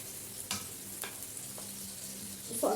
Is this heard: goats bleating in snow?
no